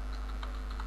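Rapid keystrokes on a computer keyboard as a search phrase is entered, a steady run of light clicks about one second long, close and clear over a low constant hum.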